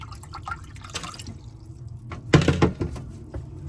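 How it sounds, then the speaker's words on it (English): Water is poured into a bowl holding eggs, a splashy sloshing burst with a few drips, close and fairly loud. "And we could add a little bit more water"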